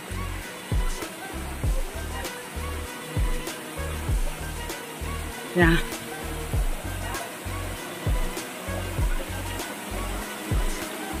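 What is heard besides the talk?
waterfall at Motinagar Bhuban Pahad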